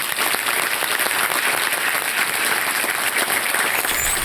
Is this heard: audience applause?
yes